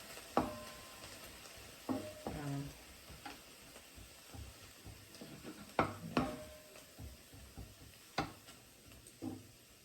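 Garlic sizzling softly in a Le Creuset Balti dish while being stirred, with scattered sharp clicks and scrapes of the utensil against the pan over a quiet, low frying hiss.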